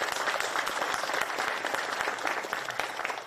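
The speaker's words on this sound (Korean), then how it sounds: "큰 박수로 한번 환영해 주셨으면 좋겠습니다" Applause from a seated audience at a farmers' meeting in Naju, a dense, steady wash of many hands clapping at moderate distance with no break.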